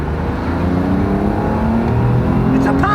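A 1994 Pontiac with a V6 engine accelerating hard, a loud sustained rising engine roar heard from inside the car, climbing steadily in pitch, with brief whirring at the end.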